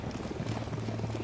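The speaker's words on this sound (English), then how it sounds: "I'm gonna stay away from this helicopter, it's gonna blow up." Helicopter in the Ghost Recon Wildlands video game, a steady low rotor drone with a faint rhythmic thump running throughout, moderately loud and close with no talk over it.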